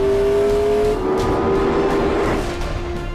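A McLaren P1 supercar accelerates hard in wet weather, its engine roaring loud and close with a steady high tone that wavers slightly as it pulls away.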